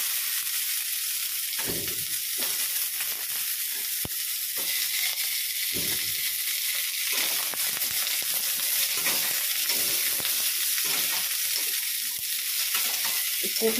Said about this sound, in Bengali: ফুলকপিটা ভেজে নিচ্ছি ভালো করে।